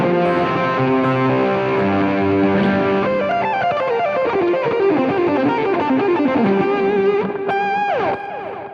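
An electric guitar played through a Marshall amp with delay ahead of reverb and the tone knob near wide open. Chords give way to a singing lead line with trailing echoes, loud and close, and no voices.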